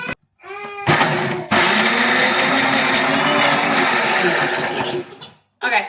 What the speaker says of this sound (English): I'm going to blend this